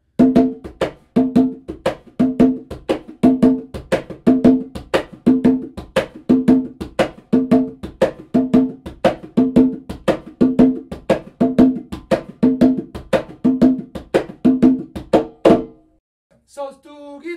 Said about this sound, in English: With that tumbada rhythm, I recorded a new pattern for conga that goes with it that sounds like this.